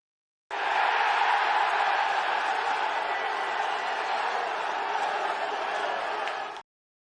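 Arena crowd at a fight event roaring and cheering in a steady, dense wall of noise that holds at full level for several seconds, then cuts off abruptly.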